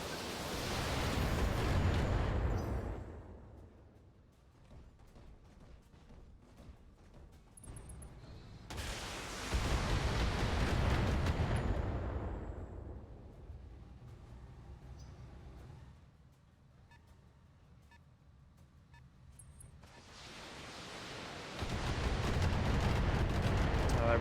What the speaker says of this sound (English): the Wyvern is going to fire for the first time. It's packing a large laser, 2 LRM-10s, and 2 smalls. So we're just going to fire the LRMs.